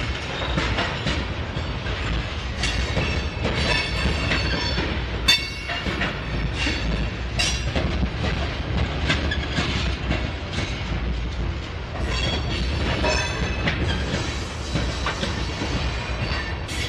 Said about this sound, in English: I wonder if this is all grain train or something.